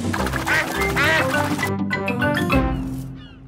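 A cartoon duck in a Peppa Pig episode quacks in quick, bright bursts over a bed of animated music, with a rising whoosh near the end.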